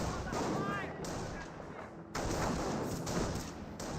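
Gunfire in a Company of Heroes video game battle, repeated cracks and rumbling artillery-like bursts in a busy, continuous battle mix, with brief faint sounds between.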